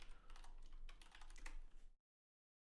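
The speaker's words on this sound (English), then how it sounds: "let's just say I type in bed reviews" Rapid clicking on a computer keyboard, a quick burst of keystrokes typing a search query for about two seconds, close and quiet, then silence.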